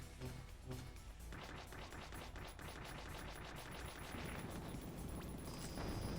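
Gunfire in the side-scrolling action game Blade Chimera crackles in rapid bursts over a dense mix of game effects and booms, fairly quiet and continuous throughout.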